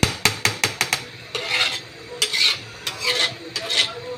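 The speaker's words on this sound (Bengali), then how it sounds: "মাংসটা ভালো করে নেড়ে মশলার সাথে মিশিয়ে দিতে হবে" A spoon or spatula stirs beef with spices in a pan, starting with a run of sharp metallic taps against the pan and moving into longer scraping strokes. The sound is close and loud, with no talking.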